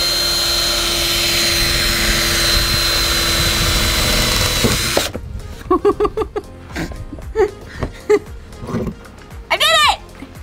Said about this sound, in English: I drilled a hole in the van